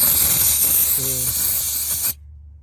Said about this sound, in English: get some brake cleaner and spray it on the oil drain pan